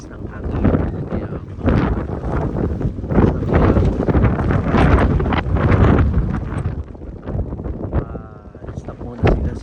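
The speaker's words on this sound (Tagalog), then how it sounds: "Pero sobrang lakas ng hangin." Strong, gusting wind during a snow blizzard roars and buffets against the microphone in uneven surges, with voices talking intermittently underneath.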